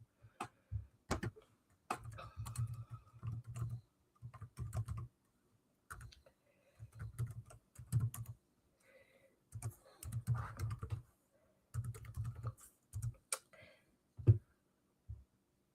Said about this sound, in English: So I will type that out.